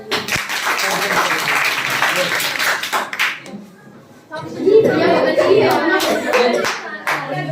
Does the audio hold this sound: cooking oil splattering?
no